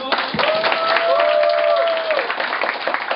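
An audience at a third-anniversary celebrity party applauds in a dense, continuous wash of clapping that lasts throughout, while a tonal voice or sustained note rises briefly over it.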